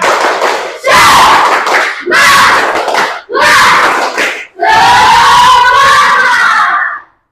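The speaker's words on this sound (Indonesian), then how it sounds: "tepuk semangat" A classroom of children performs the rhythmic 'tepuk semangat' clapping chant, shouting in loud, close bursts together with hand claps in four sharp phrases, the last one longest, separated by brief pauses.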